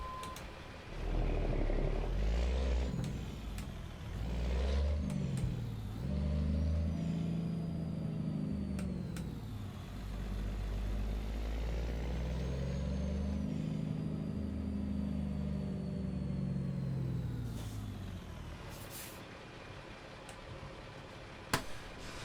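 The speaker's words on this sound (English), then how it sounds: "International Eagle with a Cummins M11 engine in it." A heavy International Eagle truck's Cummins M11 diesel engine in American Truck Simulator rumbles and revs up and down through gear shifts, with pitch rising and falling, plus a few faint ticks near the end.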